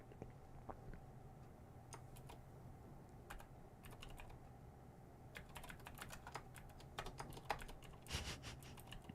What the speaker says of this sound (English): You laughing at my typing?